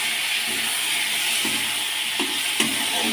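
Chopped fresh bottle gourd sizzling in a pan with a little added water, a constant hissing fry broken by a few soft scrapes of a spoon stirring it, close and without voices.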